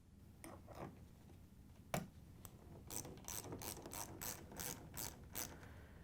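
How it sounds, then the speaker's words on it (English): A ratchet wrench with a 5/16 inch socket and extension drives bolts into a refrigerator top hinge, giving quiet bursts of rapid clicking, a sharp knock near two seconds, then a steady run of evenly spaced ratchet strokes. "we can use the 5/16 inch socket with the ratchet and the extension"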